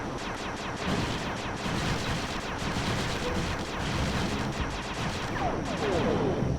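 Missiles and explosions in the video game Sly Cooper 2 make a dense, continuous barrage of rapid popping blasts and rumbling bangs, loud and steady throughout with no pause.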